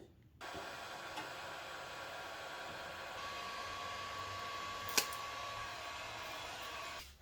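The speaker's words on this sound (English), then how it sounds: "I think I'm just going to peel them off with a heat gun" A heat gun blows steadily at close range, peeling stickers off an Ariens 824 snow blower, a continuous airy whoosh with a faint hum and one brief click partway through.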